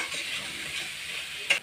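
Spice masala with Kashmiri chili powder being sautéed and stirred in a pan, a soft steady sizzle close by with a brief scrape of the utensil near the end.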